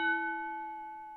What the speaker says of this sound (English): let's go ahead and ring the bell and start this match